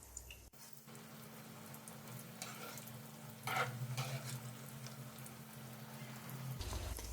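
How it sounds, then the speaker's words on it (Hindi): Shami kababs fry gently in a pan over slow heat, giving a low, continuous sizzle with occasional soft stirring or shifting sounds and no talk. "बिल्कुल स्लो आंच पर हम दोनों तरफ से गोल्डन कलर आने तक फ्राई करेंगे।"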